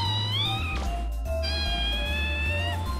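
A human voice imitates a cat from the video game Mega Man Legends, giving long, drawn-out meows with a wavering, slightly strained tone, two mewing calls in a row over a low, steady background hum.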